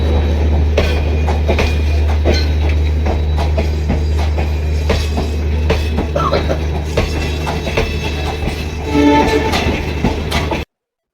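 The Goa Express train rolls steadily along the tracks with a constant low rumble and rhythmic clattering wheels, loud and close, with a brief squeal near the end.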